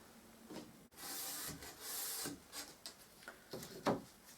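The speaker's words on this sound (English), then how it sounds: "so sanded the outer edge and the inner edge" Edges of a wooden picture frame being sanded by hand, a faint dry rubbing that swells into longer strokes and then breaks into short scattered scrapes and taps.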